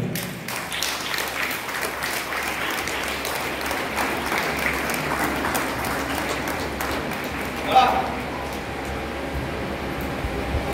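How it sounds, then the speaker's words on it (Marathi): Loud, sustained applause from a crowd honoring children who passed a karate belt exam, a dense wash of clapping throughout with a brief louder knock partway through. "एकदा जोरदार टाळ्या झाल्या पाहिजे त्या मुलांसाठी."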